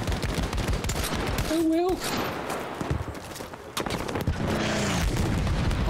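An automatic slug shotgun firing in Battlefield 5, loud repeated blasts and booming gunfire in bursts, with people talking over them.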